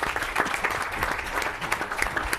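An audience applauds for Don Garber, commissioner of Major League Soccer, at the Coliseum: steady, dense clapping from a crowd that fills the room throughout, with no voices over it.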